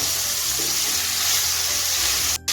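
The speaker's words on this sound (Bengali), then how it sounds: "আমি ভেজে ভেজেই সবজিগুলো নরম করে রেসিপিটা তৈরি করে নেব" Cauliflower and scallion pieces fry in a pan, giving a loud, steady sizzle and crackle that runs unbroken and close, with a brief clatter near the end and no talking.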